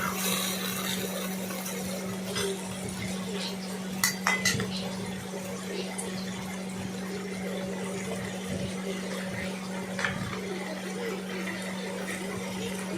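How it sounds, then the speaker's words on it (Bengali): Boiled taro leaves are stirred in a pot with a metal spoon, giving repeated scraping clinks and a few sharper knocks against the pot over a steady low hum, with no talking. "এবার সেটাকে ভালো করে নাড়াচাড়া করতে হবে।"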